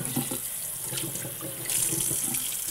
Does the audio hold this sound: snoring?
no